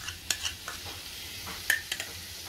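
Beaten yogurt stirred quickly into a sizzling egg masala in a pan, with a soft scraping stir, a few sharp utensil clicks against the pan, and a low frying hiss throughout.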